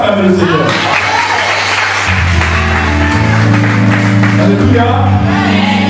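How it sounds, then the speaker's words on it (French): A church congregation cheers and applauds the Lord in a loud, continuous wash of clapping and shouting, with a voice speaking over it. "Est-ce que tu peux acclamer le Seigneur?"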